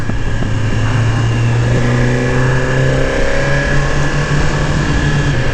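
A 2018 Suzuki GSX-R1000R sportbike engine revs loud and close while riding as the quick shifter clicks through downshifts, the pitch stepping through gear changes over steady wind noise.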